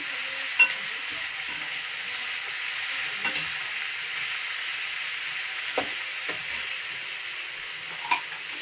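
Onions fry in a pan with an even, continuous hiss of sizzling oil, close and alone. A few faint stirring clicks break through now and then.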